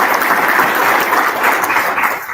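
An audience at a real estate conference claps together, a dense steady applause with no gaps that eases off slightly at the very end.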